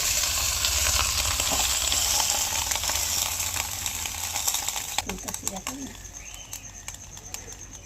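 Rohu fish paturi wrapped in banana leaf sizzles in a pan, a steady frying hiss that fades after a few seconds, followed by clinks and a faint voice in the background.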